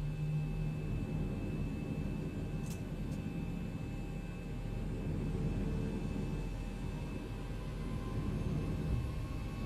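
Zibo Boeing 737-800 jet engines in X-Plane 11 spool up into a steady, broad roar with deep low rumble for a takeoff run, continuous and unbroken throughout with no voices.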